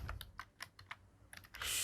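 Python code being typed on a computer keyboard, a quick burst of close key clicks in an uneven rhythm ending in a louder clatter, no voices.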